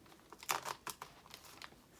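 A zipper is worked on a paper art journal page: a quiet run of crinkly, ticking rasps and paper rustles lasting about two seconds, with no talking.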